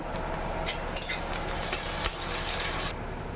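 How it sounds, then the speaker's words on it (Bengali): Chopped garlic frying in a hot pan, a steady bright sizzle with a few clinks of a spoon against the pan, close and without talk. "এবার দিয়ে দেবো রসুন কুচি"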